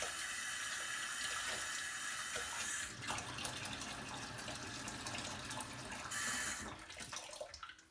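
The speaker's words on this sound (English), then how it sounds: "now I want to rinse out the cup a little bit" Tap water runs steadily while a cup is rinsed out during wet tumbling of brass. The close, hissing flow shifts in tone partway through as the cup fills and is emptied.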